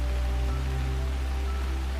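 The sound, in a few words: rain falling in woodland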